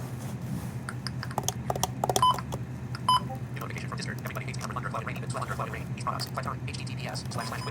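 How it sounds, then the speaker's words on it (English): Several short electronic beeps and tones chirp from a radio scanner over a steady low hum, with people talking in the background. "That is beeps."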